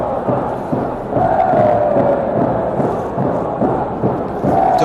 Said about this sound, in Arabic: هتافات أنصار فريق نادي